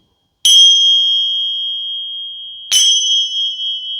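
Two clear, high bell strikes about two seconds apart during a Reiki healing session, each ringing on with a pure sustained tone that decays slowly; no voices.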